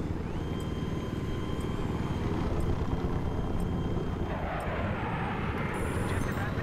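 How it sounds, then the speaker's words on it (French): A steady, loud rotor drone with whining engine tones runs throughout, layered with dense game noise and occasional sharp clicks. "Hélico droit devant. Hélico tire d'en face."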